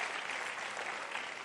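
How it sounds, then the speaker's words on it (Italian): Studio audience of an Italian TV variety show applauding, a steady dense clatter of clapping hands, fairly faint and distant, lasting throughout with no voices on top. "stanno applaudendo soprattutto le donne"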